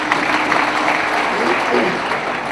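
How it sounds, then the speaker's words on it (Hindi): Audience applause at a Hindi poetry gathering (kavi sammelan) in Indore, a loud, dense and even roar of clapping throughout, with a voice faintly heard over it. "एक बार तालियां बजाइए आप लोग।"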